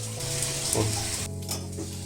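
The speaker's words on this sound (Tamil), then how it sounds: "ஆயில் ரெண்டு ஸ்பூனு அப்புறம் நெய் பிரிஞ்சி இலை பட்டை கிராம்பு ஏலக்காய்" Whole spices, including bay leaf, cinnamon, cloves and cardamom, fry in oil and ghee for turkey biryani, giving a close, steady sizzle and crackle with no voices.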